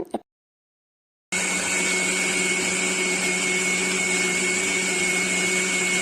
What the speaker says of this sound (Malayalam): അപ്പം ഞാനത് മാറ്റി മിക്സിയിൽ നന്നായിട്ട് അടിച്ചെടുക്കുവാണ്